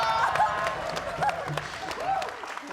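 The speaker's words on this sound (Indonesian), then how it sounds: "Tepuk tangan buat saya." A studio audience on a talk show breaks into short, lively applause, with clapping mixed under voices speaking throughout.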